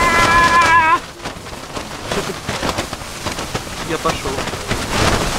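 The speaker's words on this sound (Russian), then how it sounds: "тут у нас снегопад, ветрище, начинается шторм на Эльбрусе" Strong wind and a snowstorm on Mount Elbrus roar as a steady broadband rush with gusty swells, loud and close throughout; a brief spoken phrase comes at the start.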